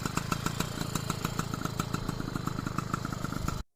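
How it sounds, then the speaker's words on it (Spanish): A Bultaco 155 motorcycle, started again after four months parked, idles with a steady, even mechanical chug and rapid regular firing pulses, close and loud throughout until it cuts off abruptly at the end. "Así es como suena, ¿no? Bultaco 155 después de estar 4 meses parada"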